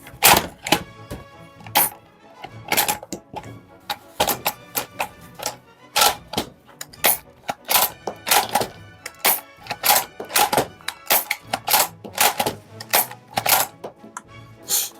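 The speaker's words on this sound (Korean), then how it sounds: "장전을 할 때는 끝까지 제껴주고 탄피 클립과 함께 놓고 맨 끝부분을 눌러서 장전을 하면 됩니다." An Academy Kar98k toy rifle is loaded with a cartridge clip, its bolt pulled fully back. Sharp, loud plastic clicks and clacks repeat in an irregular rhythm, close up and with no talking.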